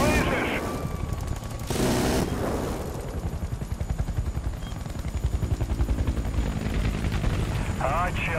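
Loud, continuous helicopter rotor chopping dominates in the video game Battlefield: Bad Company 2, with bursts of noise breaking in and voices shouting briefly in Russian over the din.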